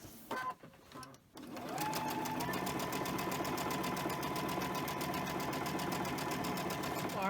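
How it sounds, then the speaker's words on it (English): A sewing machine stitches quilt pieces together, running in one steady, continuous whir after a second or so of handling noise at the start. "I'm going to sew them together and then put my last piece on."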